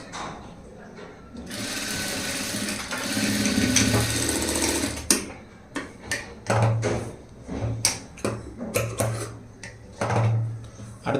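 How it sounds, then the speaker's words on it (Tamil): A sewing machine stitches a saree blouse sleeve in a loud continuous run, then breaks into short bursts of stitching separated by pauses, with someone speaking between the bursts. "ஸ்ட்ரைட்டாக அப்படி தையல் பண்ணலாம்"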